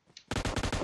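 Rapid automatic gunfire in the PUBG Mobile shooter game: a faint click, then a loud burst of about five or six closely spaced shots in quick rhythm, with no talk.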